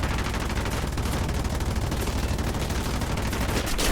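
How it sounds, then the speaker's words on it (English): Continuous dense rattling bursts of aircraft gunner machine gun fire in War Thunder, loud and close, with rapid shots running together for several seconds and no speech. "He's too busy shooting at me with his gunners anyway to pay any real attention."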